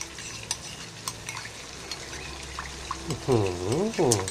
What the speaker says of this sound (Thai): ผัดไข่กับพวกนี้ครับ ให้สุกก่อนเลย